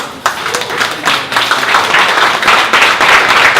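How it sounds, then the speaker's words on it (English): A live audience at a Dallas startup pitch event gives a standing round of applause, dense clapping that holds steady and loud for several seconds, with scattered voices mixed in. "Can you guys stand up and give Arun a round of applause?"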